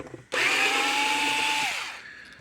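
A power screwdriver whirs steadily for about one and a half seconds while backing a screw out of the case of a Zareba solar fence charger. The motor is close and loud and winds down at the end.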